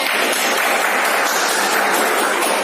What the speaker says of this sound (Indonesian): Tepuk tangan dulu untuk kawannya